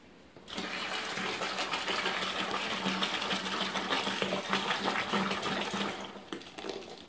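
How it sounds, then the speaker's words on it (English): Sugar water for wine making gushes from a container into a bucket, a steady close splashing pour that starts abruptly, runs for several seconds and tapers off near the end. "And pour it in your bucket."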